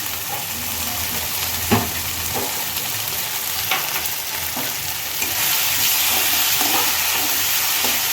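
Almond paste goes into hot oil and fries with a loud, continuous sizzle and hiss, punctuated by a few stirring clinks, the sizzle growing brighter and fuller partway through.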